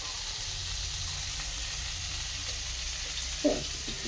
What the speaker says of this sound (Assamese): প্ৰথমতে পিঁয়াজখিনি ভাজি লৈছোঁ তেলত